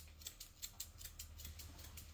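Scissors trim a fringe during a haircut, giving a quick series of faint, crisp snips in an irregular rhythm, close but quiet.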